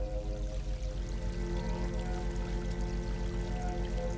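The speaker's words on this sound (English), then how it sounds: "Sounds of water." Gentle flowing water in the space exploration game Outer Wilds, a soft continuous trickle layered over a low droning musical hum, quiet and steady with no talking.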